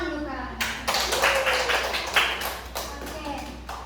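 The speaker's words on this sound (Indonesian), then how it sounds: "Tepuk tangan dulu, Kak." Children clapping their hands in a classroom, a burst of scattered claps starting shortly in and continuing unevenly to the end, with voices murmuring underneath.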